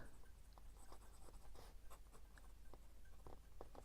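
A Sheaffer Taranis broad-nib fountain pen scratching across paper, faint close strokes with soft scritchy bursts and short taps at an irregular rhythm, no talking.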